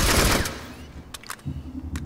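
A new MG-HBR1 Dragoon battle rifle fires in Planetside 2: a loud burst of shots opens, then a few sharp, separate reports follow over a low hum.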